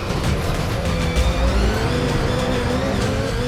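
Subaru rallycross cars launch off the start line together, a dense, loud roar of engines and tyres that holds steady and close for a few seconds with no pauses.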